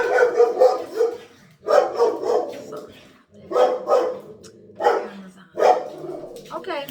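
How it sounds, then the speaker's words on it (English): A dog barks in repeated bursts close by while people talk over and between the barks. "Excuse me, here comes a dog."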